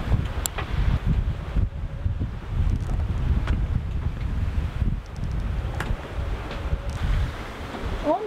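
Wind blows across a sailboat at sea near the Raz de Barfleur, a steady rough roar of gusts and microphone buffeting with faint water sounds underneath, no talking.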